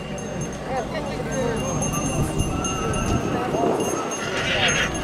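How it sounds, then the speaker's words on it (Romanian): Horses at a parade in Targu Lapus, Maramures, hooves clip-clopping amid a busy crowd while an announcer speaks over a loudspeaker; the hoofbeats and any whinnies sit under the steady talk and chatter. "Un cal foarte frumos,"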